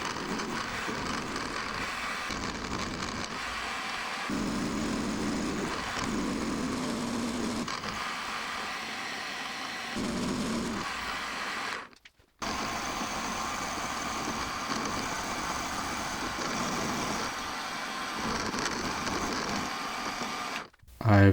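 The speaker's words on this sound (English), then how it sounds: "the last operation I need to do in this setup is to mill down these 4 areas by 1/8 of an inch." A milling machine cuts down four areas of a part held in a vise by 1/8 inch, making lathe soft jaws; a steady, continuous machining drone runs throughout with brief dips, while a person talks over it.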